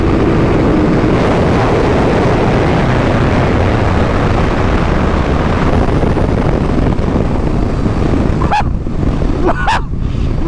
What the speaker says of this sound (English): So that is full power. Throttle body's wide open, full unadulterated power